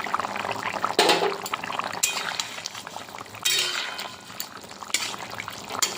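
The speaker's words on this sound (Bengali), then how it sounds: "এবার ঝোলটা ফুটে গেছে" A thin hilsa fish curry with potato, eggplant and ground black cumin bubbles in a pot, a continuous boiling simmer broken by several louder clinks and stirring bursts.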